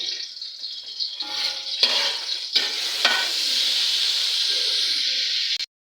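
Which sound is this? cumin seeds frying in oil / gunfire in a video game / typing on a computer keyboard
cumin seeds frying in oil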